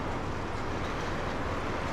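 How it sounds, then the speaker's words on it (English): A T1 locomotive hauls its passenger train out of a long cut and upgrade into town, producing a continuous, fairly loud rumbling roar with a steady hiss and no pauses. "Let's start this video watching the T1 pull its train out of the long cut and head upgrade into town."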